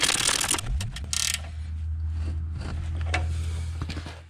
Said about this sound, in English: helps if I put the ratchet spanner the right way